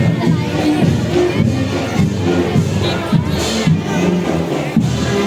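Crowd cheering at a kindergarten school sports day in Phitsanulok, Thailand, a steady dense wash of voices from teachers and children carrying on throughout, with some talk mixed in.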